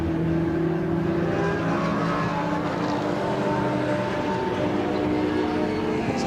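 TCR touring cars racing at the Silverstone Grand Prix circuit give a steady, loud, continuous engine drone with layered droning tones, heard from a distance without any talk.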